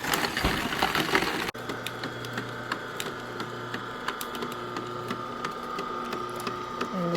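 Juicer grinding carrots, a steady motorized whine with crunching, rattling bursts as the carrots are fed in, close and continuous with a sharp knock near the start.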